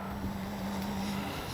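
Steady wind rushes and buffets around a Dynam Tiger Moth model biplane, a continuous breathy roar with a faint tonal hum underneath and no talking.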